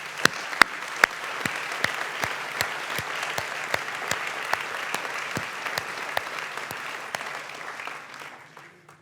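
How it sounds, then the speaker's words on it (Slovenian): An audience at a Slovenian award ceremony applauds warmly and steadily, a dense wash of clapping with a few louder individual claps standing out, before it fades away at the end. "bi vam rad preželel en iskren aplavz iz vsega srca v tem trenutku."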